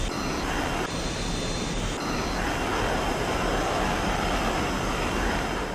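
A fighter jet in Over G Fighters roars steadily as it takes off, a loud, continuous broadband engine rush with a brief tonal whine early on.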